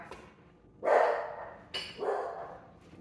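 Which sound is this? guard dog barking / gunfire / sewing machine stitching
guard dog barking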